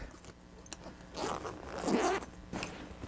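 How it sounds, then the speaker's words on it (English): Zipper on the side of a Bluetti Handsfree 1 backpack power station pulled open in a few rasping strokes, close and fairly loud, with short pauses between pulls and no talking. "Zippers on the sides that go right down to the base. I can open up"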